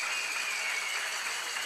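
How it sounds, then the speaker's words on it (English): Audience applause at a junior women's 10m air pistol final at the European Championships in Győr, a steady hiss of many hands clapping at moderate distance, unbroken for the whole brief moment. "A big applause for Alessandra Fait."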